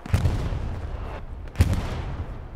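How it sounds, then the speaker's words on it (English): Incoming rockets exploding in a multiplayer shooter match, two loud booming blasts about a second and a half apart, each with a rumbling tail, no talk over them. "Rockets coming in."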